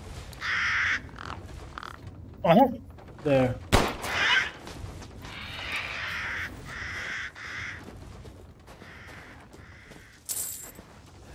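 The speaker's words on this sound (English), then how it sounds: "Wait, I do hear some crows." Crows caw in the game Resident Evil Village: a few harsh calls come close together near the middle over steady ambient game sound. A single word is spoken briefly.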